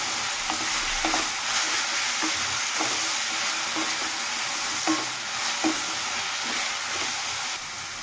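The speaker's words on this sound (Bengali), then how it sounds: "এটাকে ভালো করে আমি নাড়িয়ে চাড়িয়ে নেব।" Spices, garlic and mustard stirred into pumpkin greens in a frying pan, a steady close sizzle with regular scraping strokes of the spoon, no talking.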